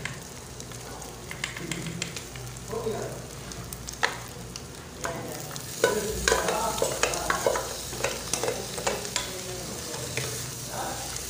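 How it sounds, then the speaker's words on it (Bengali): Shredded cabbage hits a pan of browned fried egg and is stirred, with a soft sizzle at first that swells into louder crackling bursts and scraping strokes partway through, close and alone. "আমার ডিম বাদামি কালার হয়ে গেছে, এবার আমি পাতাকপির সবজি দিয়ে দিব।"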